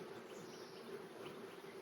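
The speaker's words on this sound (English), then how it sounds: "There's a lot of bees on this frame." Honeybees at an open hive during a summer inspection, their steady, dense buzz filling the air as a continuous close hum with no pauses and no talking.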